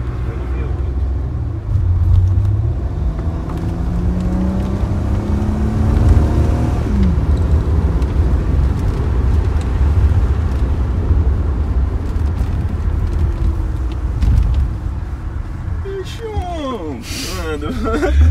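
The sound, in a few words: car engine accelerating, revving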